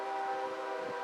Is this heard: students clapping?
no